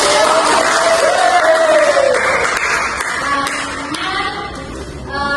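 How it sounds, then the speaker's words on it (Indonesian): A group in a small counselling session claps hands together, a steady loud patter with cheering voices and whoops mixed in, fading slightly toward the end. "Oke, tepuk tangan."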